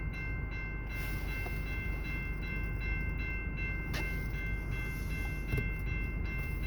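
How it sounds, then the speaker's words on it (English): An Amtrak 53 passenger train approaching in snow, a steady broadband rail rumble with faint distant horn tones and occasional clicks, heard from trackside at moderate distance without talk. "So which means it's snowing and the Amtrak is almost here."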